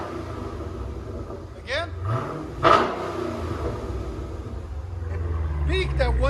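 2020 Dodge Challenger Scat Pack with a 6.4L V8 and dual exhaust fitted with Dynomax Race Bullets, a deep burbling idle with a couple of sharp rev blips, under someone talking.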